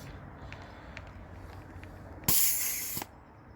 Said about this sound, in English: I'm just gonna take this air tank off